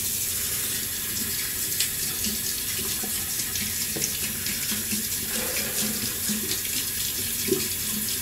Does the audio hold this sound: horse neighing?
no